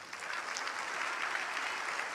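A church congregation claps in praise during a Spanish-language Christian sermon, a dense burst of applause lasting a couple of seconds.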